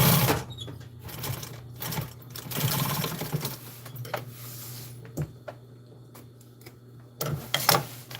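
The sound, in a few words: sewing machine stitching a hem again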